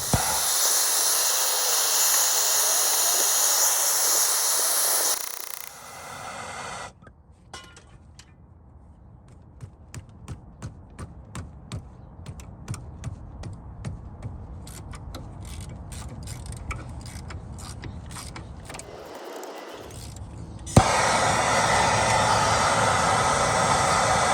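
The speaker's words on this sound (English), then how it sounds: "I can get my torch. Theoretically, this should help loosen everything up." A torch flame heats a corroded rear wheel bearing on an Audi Q5, roaring as a loud, steady hiss. It cuts out for a stretch of light clicks and metallic taps, then roars back near the end.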